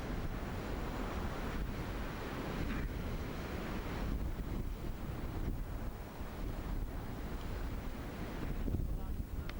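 Wind blows hard and steadily across a golf course, with rough microphone buffeting that stays loud the whole time and no clear breaks.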